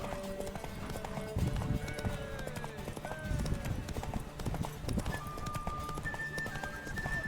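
Rhythmic clip-clop of horse hooves runs throughout with an occasional whinny, layered over game music, background murmuring and soft chatter in The Witcher III: Wild Hunt.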